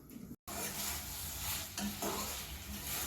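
Okra (dhyarosh) gujiya cooking in a home kitchen pan: a steady, moderately loud sizzle with stirring scrapes throughout, broken by one short silent gap near the start.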